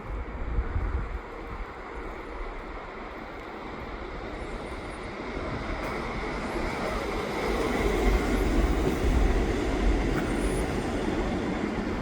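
A Montreal REM light rail train rumbles past continuously on a snowy day, wheels rolling and clattering on the track, growing louder toward the end with no talk.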